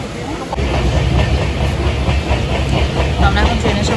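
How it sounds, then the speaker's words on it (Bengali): A passenger train rumbles along its rails, heard from inside a carriage during a night journey home from Digha, with a steady loud roll and rhythmic clatter throughout. "আমরা এখন ট্রেনে সব বসে আছি"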